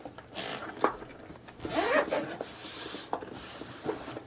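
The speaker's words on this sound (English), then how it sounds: "All right, so let's get the zipper." A zipper on a massage gun case is pulled open in a few quick, close rasping strokes, with one longer unzipping run in the middle and short tugs before and after, no talking.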